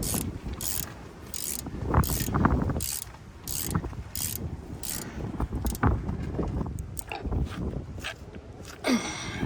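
Ratchet wrench tightening front-end bolts on a 2WD GMC Sierra/Chevy 1500, steady clicking pawl strokes with metallic clanks and rattles in an uneven rhythm, close and continuous.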